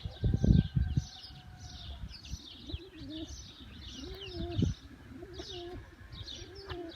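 Pigeons coo repeatedly at a coop, soft rolling calls recurring in a steady rhythm at moderate distance, opened by a loud brief fluttering thump.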